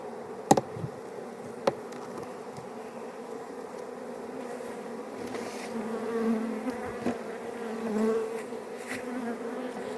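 Honey bees hum in a steady, fairly faint drone during an autumn apiary hive inspection and treatment before wintering, with a few sharp knocks near the start and no voices.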